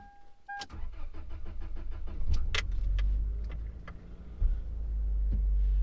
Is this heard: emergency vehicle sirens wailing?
no